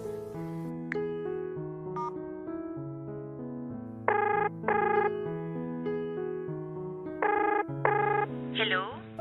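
A telephone call is placed, with repeated electronic ringing tones in short bursts over a steady tonal background, ending in a rising chirp as the line connects.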